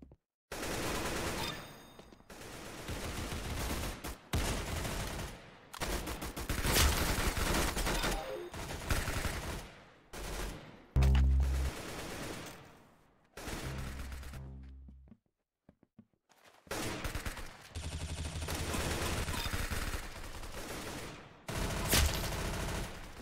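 Rapid bursts of automatic gunfire and single shots in the shooter game Arsenal, loud and dense across the whole stretch, with brief pauses and a short quiet gap midway.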